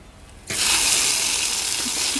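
Water from a tap bursts on abruptly and then runs in a steady, loud, broadband gush close by, with no voices.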